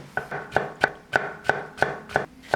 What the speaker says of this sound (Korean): 칼로 왼손을 밀고 칼날 앞쪽으로 몇 cm인가를 조정한 다음에 썰어주고, 이런 식으로 밀어썰기 먼저 해볼게요.